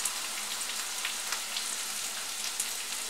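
Asparagus stir-frying in a pan sizzles steadily, a close, even crackle with small pops scattered through it and no voices.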